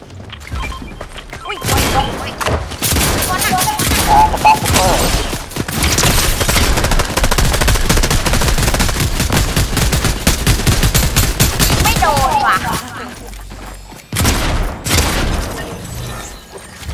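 Sustained rapid gunfire in a Fortnite Zero Build squads match, loud automatic bursts rattling almost continuously with short pauses, with players talking over it.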